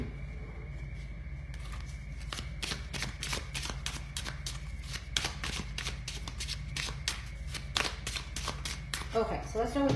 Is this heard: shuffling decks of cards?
yes